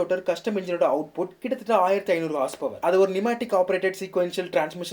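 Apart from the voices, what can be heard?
No everyday noise stands out behind the speech.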